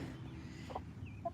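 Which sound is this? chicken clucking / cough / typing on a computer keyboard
chicken clucking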